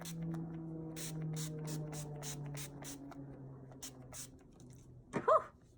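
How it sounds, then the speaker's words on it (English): Urban Decay All Nighter setting spray is misted onto a face, with a series of short, soft hissing spritzes over a low background hum, followed by a brief breathy sound. "I sprayed one right in the center."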